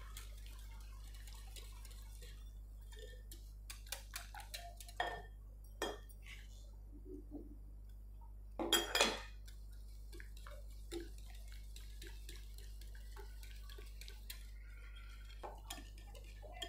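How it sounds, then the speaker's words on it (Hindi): A spoon mixes pizza pancake batter in a bowl as flour is added spoonful by spoonful, giving quiet scattered clinks and soft scrapes over a low steady hum, with a brief louder clatter midway. "1-1 चम्मच डालते जाएंगे और इसको मिक्स करते जाएंगे।"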